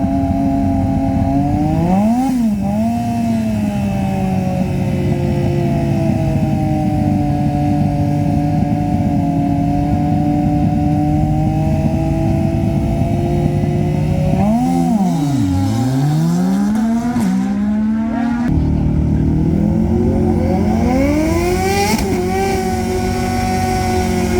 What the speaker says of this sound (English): Turns out they're running bikes right now